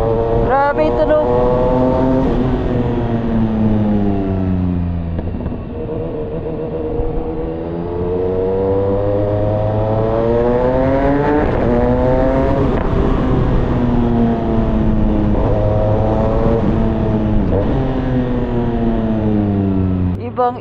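A CFMOTO 675SR-R motorcycle fitted with a new full-system exhaust revs hard and close, its engine note climbing and falling through several loud sweeping rises over about twenty seconds.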